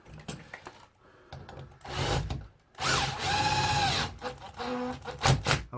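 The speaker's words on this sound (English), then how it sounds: "Get to the point where you feel that the ratchet kicks in." A power drill driving screws while a TV wall-mount bracket goes up, with the clutch ratcheting in short bursts of clicking and whirring separated by pauses. Faint handling noise fills the gaps.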